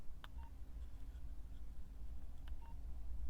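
A Uniden UBC125XLT handheld scanner gives two short electronic alert beeps about two seconds apart over a faint steady hum, with no talking.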